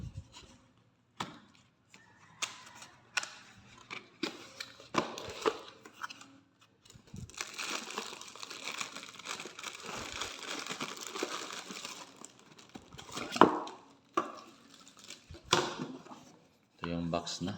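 Packaging around a T-Wolf desktop computer speaker crinkles and rustles in close, irregular bursts as the box is opened, with a longer stretch of steady crumpling in the middle and someone talking at intervals.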